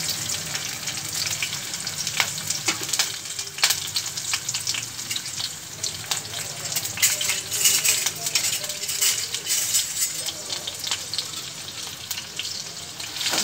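Tempering seeds, onion and green chillies fry in a pan with a continuous close sizzle, punctuated by occasional clinks and scrapes of stirring.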